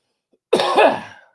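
A single abrupt hiccup-like vocal burst, close and fairly loud, followed by a brief strained throat sound, with silence around it.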